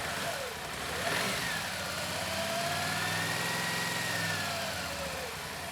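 Rebuilt Polaris top-end engine running after reinstall, a steady mid-pitched idle with a slight rise in revs, mixed with broad background hiss, continuous and fairly close.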